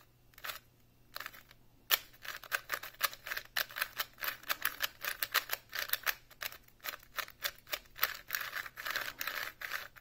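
Rapid plastic clicking and clacking from a speed cube puzzle being turned, in quick irregular bursts, close and fairly loud with no talking.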